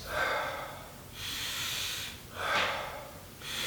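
Slow, deep nasal breaths in the Wim Hof method, each long airy inhale and exhale filling about a second, repeating in a steady cycle close up and alone.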